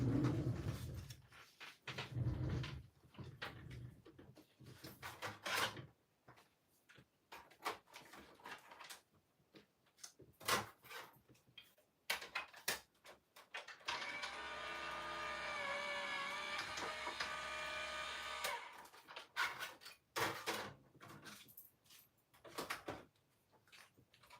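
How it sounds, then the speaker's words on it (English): Card stock being fed through a die-cutting machine while crafting a gatefold card with flaps, a steady mechanical grinding roll lasting several seconds, preceded and followed by scattered clicks and handling knocks, with no talk. "I'm going to run this through my machine and I will be right back."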